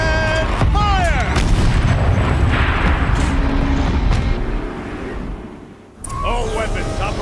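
A heavy turret in Horizon Zero Dawn fires with a loud booming blast followed by a rumbling, roaring tail, with voices talking over the cannon fire and a brief lull before more mechanical noise.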